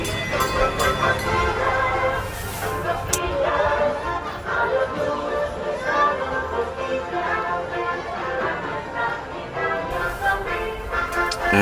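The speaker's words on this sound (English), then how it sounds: "And the train once again." A train passes near an outdoor spot where paella is being cooked, a steady rumbling clatter with rhythmic ticking and squeal, loud and sustained, with faint background voices.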